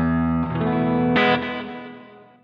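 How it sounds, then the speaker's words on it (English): Electric guitar played through a Boss ME-90 multi-effects unit with delay added, giving a distorted, sustained chord that rings out, shifts to a brighter strum, then trails away with echoing repeats. "Next, let's add some delay."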